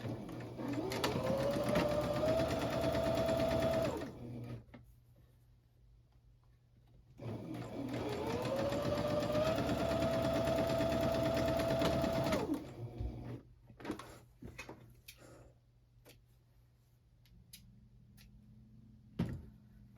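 A sewing machine stitches long seams joining fabric pieces of a dress, two sustained runs of steady motor hum and rapid needle clatter separated by a pause, then scattered handling clicks afterward.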